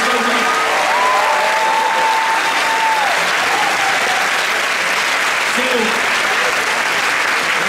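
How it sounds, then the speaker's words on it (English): Sustained applause from an audience at a high school jazz festival, dense clapping throughout at an even level, with a few voices faintly rising through it. "Can we put a round of applause together for all the volunteers and for Barbara Cologne"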